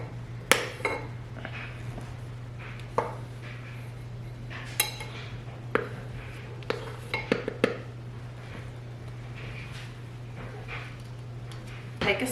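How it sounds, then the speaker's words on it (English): A spatula stirs a flour mixture in a bowl into a shaggy bread dough, giving scattered scrapes and light knocks against the bowl over a steady low hum. "Take a spatula and start to combine the flour mixture until this starts to come together to form a shaggy dough"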